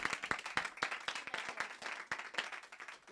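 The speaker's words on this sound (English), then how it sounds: "So I'd like to a round of applause to Ellen." A small group at a Wayland sustainability meeting gives a short round of applause, with distinct, sharp hand claps in an uneven rhythm heard fairly close, lasting about three seconds.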